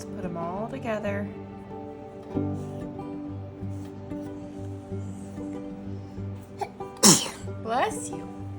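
A single sharp sneeze bursts out in a room where clay is being pressed into casts, standing out clearly from steady background hum and nearby talk.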